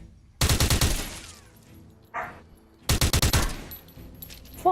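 A VZ63 compact submachine gun fires in a video game: two rapid full-auto bursts of sharp, loud, close shots, separated by a brief quieter metallic clack, with a single shot right at the end.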